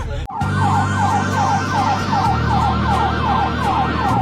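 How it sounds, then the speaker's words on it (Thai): An ambulance siren wails loudly and steadily in a rapid oscillating pattern, close by on a road amid car traffic noise, after a brief thump at the start. "เบี่ยงซ้ายเบี่ยงขวา รถพยาบาลนะครับ"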